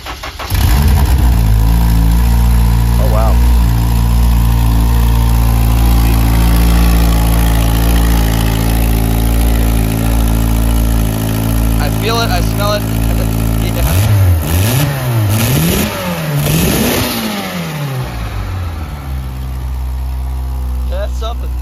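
A turbocharged 5.3 V8 in a Volvo wagon idles steadily, then revs up and down in several sharp bursts midway, loud and close, with people talking over it.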